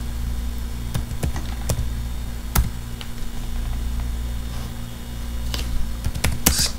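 Someone types on a computer keyboard at a Windows desk setup: scattered, close key clicks with a few sharper taps over a low steady hum, no voices.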